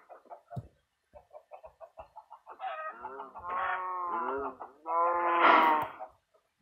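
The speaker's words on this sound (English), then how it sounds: "A chicken." Chickens in the Minecraft video game cluck and squawk in a series of short, repeated calls that build into longer, louder harmonic bursts, close by and with no talk over them.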